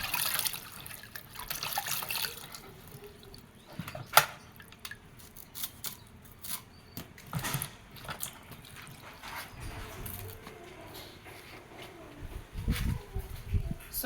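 Unripe green plantain being washed under a tap, with faint running water and splashing, scattered drips and light handling knocks, quiet and close with no talk.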